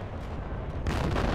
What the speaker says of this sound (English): there's the bomb drop